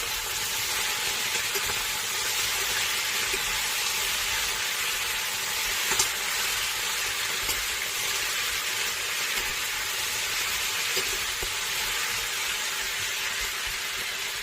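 Steady broadband sizzling of potatoes frying uncovered in a hot steel pan, continuous and fairly loud, with faint occasional clicks and no voices.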